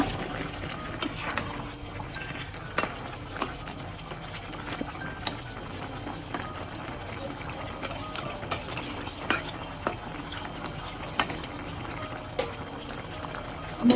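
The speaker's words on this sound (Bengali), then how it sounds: "এখন আরো আবার নাড়া দিয়ে দিব আর টমেটোটা মিক্স করে দিব" A spoon stirs a potato, flat bean and tomato curry in a cooking pot, giving irregular close scraping clicks and knocks over a low steady simmer, with no talking.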